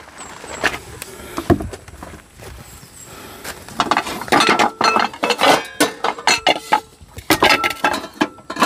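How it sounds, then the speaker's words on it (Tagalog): Metal cooking pots clank and scrape in water in a basin, a busy run of knocks and clinks, close by, with occasional splashing and no talking. "Hugasan natin yung mga kaldero."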